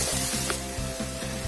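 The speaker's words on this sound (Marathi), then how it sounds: "लसूणना व्यवस्थित तेलामध्ये फ्राय होऊ द्या।" Three whole washed garlic cloves frying in hot oil alongside browned onions for Bihari-style chicken lasooni, a steady close sizzle with a few soft stirring scrapes and no talking.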